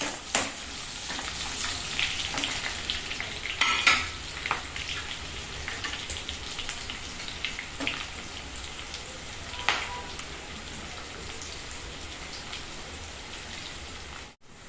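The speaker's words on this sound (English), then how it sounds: "Now add the onions and fry them till they turn light brown" Onions fry with cardamom in a pan, a steady close sizzle and crackle running throughout with a few louder pops near the start, no voices over it.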